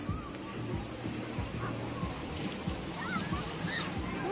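Sea waves at Lermontovo on the Black Sea coast splash and wash near the shore at a modest, steady level, with wind noise and faint voices of people nearby.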